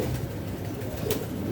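Pigeons cooing in a home pigeon loft, soft low repeated coos that are faint and continuous, with no talk.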